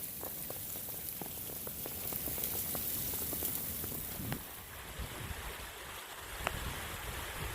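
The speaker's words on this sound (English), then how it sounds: "Here's a really cool waterfall." A waterfall on a woodland trail at Slate Run pours in a steady, moderately close wash of falling water, with scattered splashes and drips.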